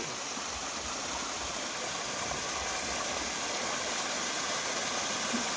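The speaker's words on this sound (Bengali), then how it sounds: "ওই যে এখন মোটর চলছে" A water pump motor runs with water flowing, a steady dense rushing hiss that stays constant and fairly close, with no other sounds over it.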